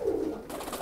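A frillback pigeon, a rare breed produced by selective breeding, gives a single short, close coo that fades into soft background noise.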